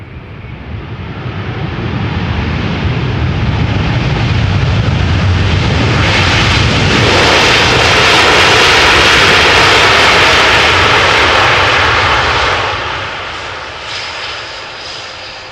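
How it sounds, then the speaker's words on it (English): An Air Europa Boeing 787-9 Dreamliner arriving from Madrid passes close and loud, its jet roar and engine whine building to a sustained peak before dropping away. "incoming is Air Europa, the daily flight from Madrid. This is the Boeing 787-9 Dreamliner"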